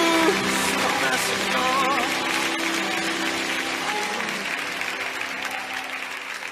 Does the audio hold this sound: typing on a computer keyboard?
no